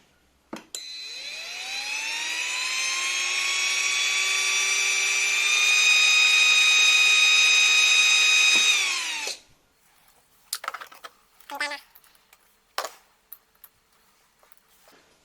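The 30,000 RPM motor of a kids' 12 volt electric car spins up with a clicking start and rises to a loud, high whine that holds for about eight seconds, then cuts off abruptly, followed by a few small clicks.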